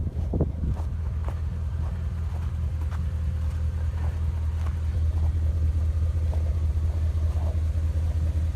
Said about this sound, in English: that's my salter truck, plow truck